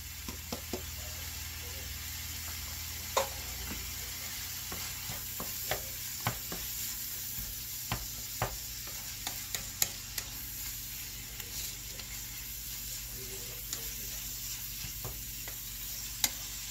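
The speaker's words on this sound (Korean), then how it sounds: "고기가 익을 때까지 볶아줘요" Meat and shiitake mushrooms stir-fried in a pan for a spaghetti squash dish, a steady soft sizzle broken by repeated sharp clicks and scrapes of a utensil against the pan, close and without talk.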